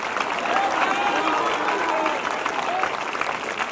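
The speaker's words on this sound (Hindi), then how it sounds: "जब ये ताली बजाते" A church congregation at a prophetic prayer meeting claps together in a loud, continuous, crowd-wide burst of applause that holds steady throughout, with voices mixed in.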